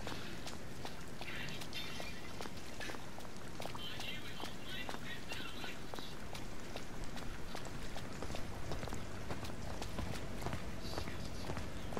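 Footsteps of a character in the video game We Happy Few, a steady run of soft steps repeating over a dense, continuous game ambience with a voice talking underneath.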